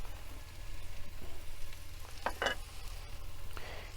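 Oil and food brown in a frying pan during a van-life tofu stir fry, giving a steady low sizzle with a couple of brief scraping stirs partway through.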